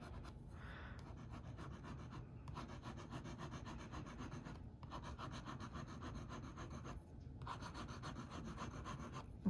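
A Kakimori brass dip pen nib scratches softly across paper in steady, rhythmic strokes, with a few short pauses between the runs of writing.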